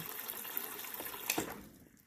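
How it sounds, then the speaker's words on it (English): An extra cup of water poured into a pot for a corned beef brisket, a soft steady trickle that builds into a brief splashing gush before tapering off, no voices. "I'm going to go in with an extra cup of water."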